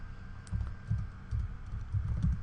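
Fingers typing code on a computer keyboard, uneven bursts of soft, muffled keystrokes in quick clusters, close up with no voice.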